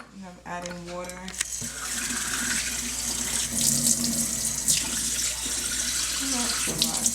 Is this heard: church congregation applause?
no